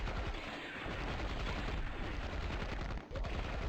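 Dense, rapid gunfire from enemy marines in the 1997 strategy game Dark Colony, a continuous crackling barrage that fills the whole stretch with one brief dip near the end.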